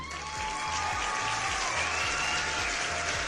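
A continuous round of applause plays as a canned crowd effect under a steady low rhythmic thump, with faint tonal streaks running through the dense, even clapping.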